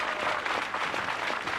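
An archery crowd at a national final applauds in support of a recurve archer, steady moderately distant clapping with a soft, even texture throughout.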